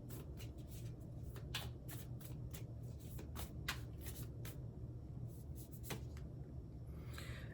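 Tarot cards shuffled steadily by hand, a soft rapid riffling patter with occasional sharper card snaps, close but quiet over a low steady background hum.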